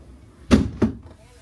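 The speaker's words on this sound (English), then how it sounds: "Close that door because it's kind of chilly." A hotel balcony door in Osaka is pulled shut, giving two quick thuds close together, near and moderately loud against a quiet room.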